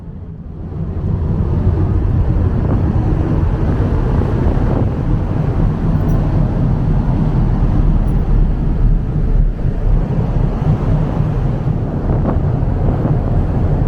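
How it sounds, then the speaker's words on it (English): Ferry engines rumble on deck during an Adriatic Sea crossing, a loud steady low drone with wind buffeting the microphone and sea noise, continuous throughout and without speech. "I don't know if you can hear me over the engines."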